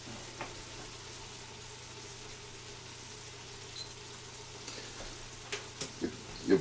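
Sausage and beef browning in a pan over moderate heat, a soft steady sizzle with occasional stirring clinks and scrapes, faint and close.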